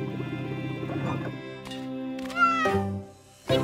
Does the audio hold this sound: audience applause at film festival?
no